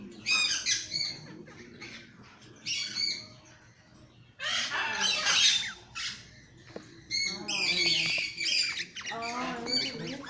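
A big cage full of birds erupts in harsh, overlapping squawks and chirps, bursts rising and falling close by with short lulls between them.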